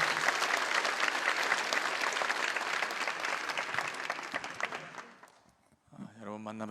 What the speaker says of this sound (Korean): 오늘 김현진 목사님 뜨거운 박수로 우리 맞이해 주시길 바랍니다.